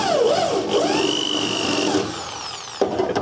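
An old drill bit is used to drill out parts from a donor Acura MDX, the power drill whining loudly and close with pitch sweeping up and down, then easing off before a brief burst near the end.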